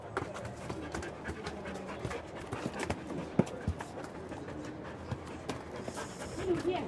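Detection dogs sniff and pant while searching every nook and hiding spot, quick breathy bursts close by over a steady busy background.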